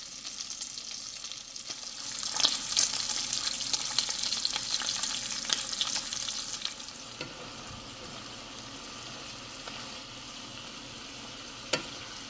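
Bacon sizzling in a frying pan, a steady crackling hiss that swells louder midway then settles to a quieter fry, with a single sharp tap near the end and no talking.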